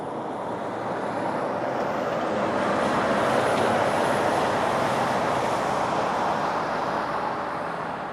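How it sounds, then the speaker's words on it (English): A Boeing 737 MAX 8 arriving from Halifax at Toronto airport in freezing weather roars past, a broad, loud jet rumble and whine swelling then holding steady for several seconds, with no voices. "we got an arrival again. It's a 737 MAX 8 from Halifax."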